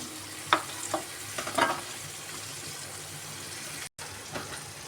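Onions and tomatoes for a Punjabi gravy cook in a pan, giving a soft, steady sizzle broken by a few scraping stirs early on and a brief cutout near the end, faint and without talk.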